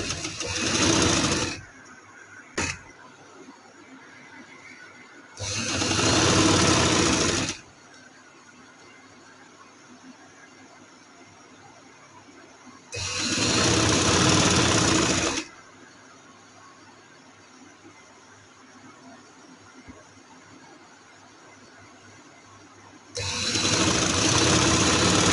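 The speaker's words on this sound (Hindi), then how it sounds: "इसके साथ साथ हम सिलाई लगाएंगे।" A sewing machine stitches ladies' trousers in four separate loud bursts of steady whirring, each a few seconds long, with quiet pauses between them.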